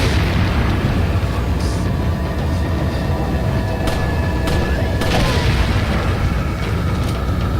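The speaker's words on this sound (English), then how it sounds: "Back away, that dynamite's going to hit." A dynamite blast in the video game Resident Evil 4 HD: dense, roaring broadband rumble fills the whole stretch, with a sharper burst of impact partway through and faint crackling tails.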